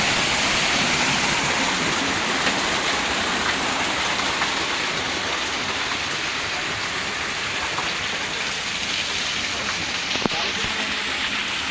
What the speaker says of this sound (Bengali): এখানে সবসময় জল পড়ে, এরকম পাথর থেকে সবসময় জল পড়ে